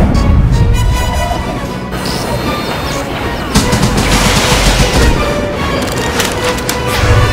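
Rapid gunfire and explosions from emplacements in the Star Wars: The Old Republic video game crackle continuously through a dense, loud battle mix, with game voices partly audible.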